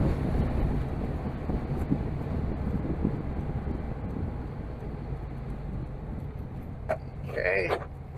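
A 1971 VW Super Beetle's air-cooled engine hums steadily from inside the moving car, a low continuous drone mixed with road and wind noise, with a voice briefly heard near the end.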